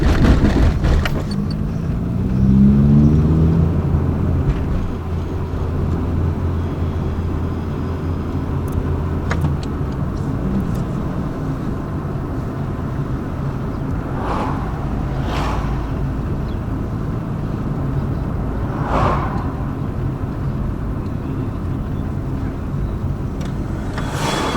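A Mazda 323 GTS, an older car without power steering, drives along with a steady engine and road drone. Wind buffets the microphone and there are a few faint clicks.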